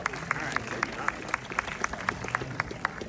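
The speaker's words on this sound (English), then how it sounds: "round of applause for you guys" Scattered, rhythmic clapping from a cinema audience at a 70mm film screening, a steady patter of claps with faint crowd murmur underneath.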